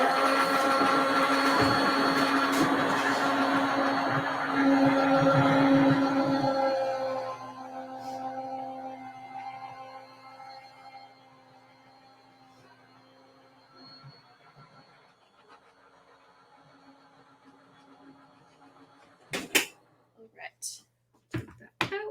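An electric die-cutting machine whirs loudly as a card passes through, running steadily for about seven seconds before stopping, followed by quiet and a few sharp clicks near the end.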